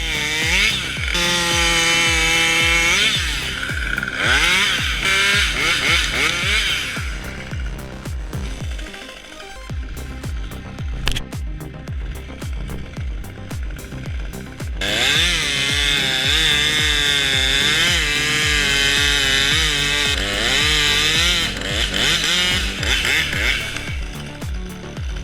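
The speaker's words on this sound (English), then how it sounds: "Even the sharpest chainsaws can bind when the tree shifts wrong." Chainsaw cutting a tree, a loud, close, high revving whine that drops briefly mid-cut and then surges back to full throttle.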